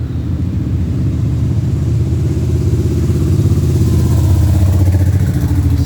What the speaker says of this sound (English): Sorry for the noise, we're right next to a roadway.